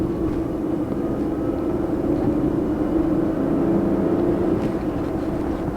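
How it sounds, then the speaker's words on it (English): Cabin noise inside a light Perodua Viva with an 850cc three-cylinder engine while driving: a loud, steady droning rumble of engine and road noise that never lets up, with no voices. "the noise level in this car is very high"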